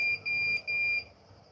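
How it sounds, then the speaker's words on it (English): A motion detection camera system alarm sounds as short, high electronic beeps, three in quick succession, fairly loud and clear, followed by quiet. "If there's no motion detection, this alarm will not be there."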